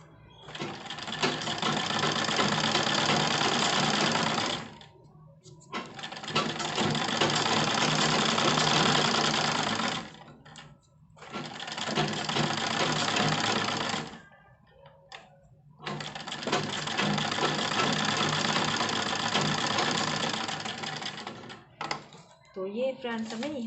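A sewing machine stitches cloth in four long, steady runs of rapid mechanical clatter, broken by short pauses, with someone speaking quietly in the gaps.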